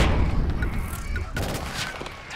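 Gunshot fired at a marked container in Killzone Shadow Fall, with sharp cracks and a dense rolling boom that keeps echoing through the short stretch.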